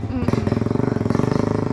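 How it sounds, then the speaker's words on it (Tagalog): A motorcycle engine revs hard and close, a rapid throbbing pulse building over the short burst, with talk faintly underneath. "Ang ganda ng tunog ng motor ni Kuya. Binumba ng binumba."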